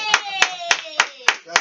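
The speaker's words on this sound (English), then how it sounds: "Give me a hand clap." Six sharp hand claps in an even, steady rhythm ring out close by, each crisp smack followed by a short gap, while a sustained musical tone plays quietly underneath.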